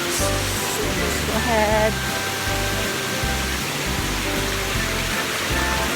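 A small waterfall at Badiang in Valencia, Bohol, rushing steadily and loudly close by as a continuous broadband roar, with someone speaking briefly over it.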